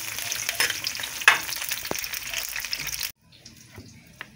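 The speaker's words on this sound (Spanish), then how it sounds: "Miren, los ajos ya se están dorados, casi dorando, entonces vamos a estar poniendo la cebolla." Garlic and onion sizzle in a hot pan, with crackling spatter and a brief stir for about three seconds before the sound drops away abruptly.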